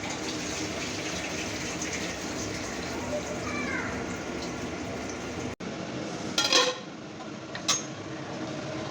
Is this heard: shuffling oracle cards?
no